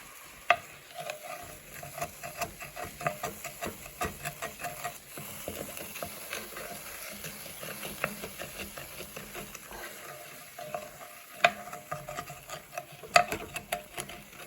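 A wooden spoon stirs beef stew in a wine and tomato sauce, giving soft repeated scraping and sloshing over a low, steady simmer, with a few sharper knocks against the pot.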